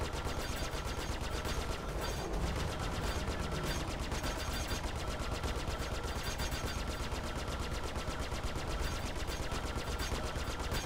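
Aircraft guns fire in a fighter combat video game, a dense continuous rattle of rapid shots with engine roar underneath, loud and unbroken throughout.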